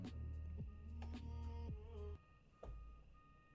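Whiny electronic beeping, maybe a vehicle reversing signal, heard as faint, steady tones that step and slide in pitch over a low hum, with no talk.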